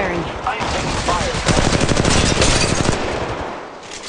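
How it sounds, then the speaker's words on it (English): Rapid automatic gunfire from the mobile battle royale game Apex Legends Mobile, dense bursts of shots that intensify midway and then taper, loud and continuous with no clear pauses. "The enemies are shooting at me."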